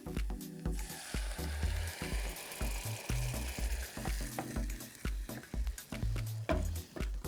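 A sauce of freshly grated tomatoes for pizza hits a hot pot and sizzles softly, with stirring noises and quiet background music over the sputtering.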